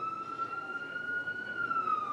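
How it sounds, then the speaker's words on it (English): An ambulance siren wails steadily as it passes by in a Houston street during a live news briefing, one sustained rising and falling tone riding over low traffic rumble, fairly close and clear with no talk over it. "I'll let that ambulance go by,"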